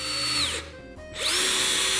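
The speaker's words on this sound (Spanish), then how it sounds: "vamos a taladrar avellanando. Fijaros la función de esta broca avellanadora" A power drill with a countersink bit whines at high speed while boring a countersunk hole in wood for a hammock. It stops briefly, then spins back up, close and clear with no voices.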